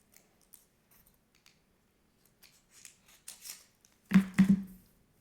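Scissors cut out heat transfer shapes up close: scattered faint snips and rustles, then a louder quick cluster of three sharp crunching cuts near the end, with no talk.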